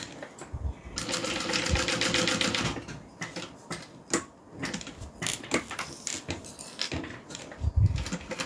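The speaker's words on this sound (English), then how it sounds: "So we're going to start sewing on one end." A sewing machine stitching along one edge of fabric, a fast steady whirring run for a couple of seconds, then shorter bursts and clicks as it stops and starts, loud and close with no talking.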